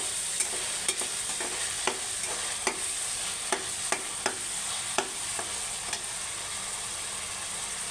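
Spices fry in a pan for a beef and chana dal curry, giving a steady hiss of sizzling. Irregular sharp clicks and scrapes come from a spoon stirring against the pan, heard close and without any talk.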